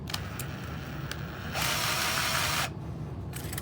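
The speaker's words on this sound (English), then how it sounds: "I use a drill to loosen it like this" A power drill loosening a pipe clamp whirs steadily for about a second at close range, with ratcheting clicks and mechanical rattling before and after.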